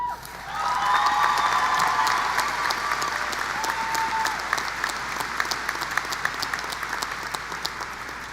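Sustained audience applause at a high school graduation ceremony for the honor speakers, loud and steady, with a few whoops and cheers rising over the clapping early on.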